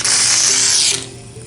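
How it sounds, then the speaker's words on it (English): Shaving cream sprays from an aerosol can onto a table in a loud, close, bright hissing burst lasting about a second, then cuts off into a faint residual sputter. "I'm going to just spray my shaving cream right on the table."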